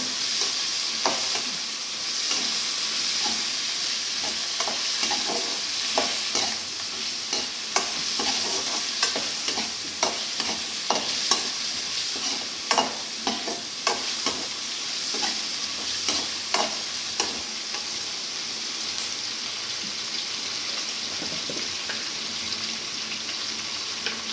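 Ingredients for egg hakka noodles sautéed in a pan until golden brown, with a steady sizzle throughout and many quick rhythmic scrapes and taps of a spatula stirring close by.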